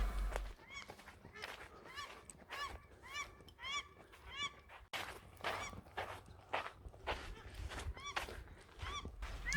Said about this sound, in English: Birds screaming. Those are native birds.